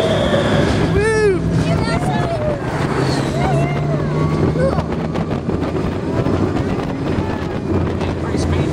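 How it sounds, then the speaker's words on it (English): An Epcot Test Track ride vehicle speeds up with a loud, continuous rushing roar and heavy wind buffeting, while riders' voices and brief shouts rise over it early on. "Increase speed for the loop. Accelerating."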